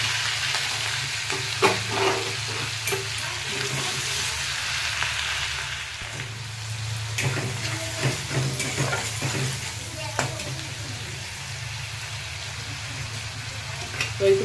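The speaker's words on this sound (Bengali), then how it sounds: "তো একটু পেঁয়াজটা ভাজা ভাজা হতে দেবো" Grated onion fries in hot oil with nigella seeds for a fish curry, a dense, continuous sizzle and crackle with occasional stirring clinks, close and steady, with no voices.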